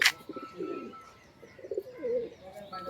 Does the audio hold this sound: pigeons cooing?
yes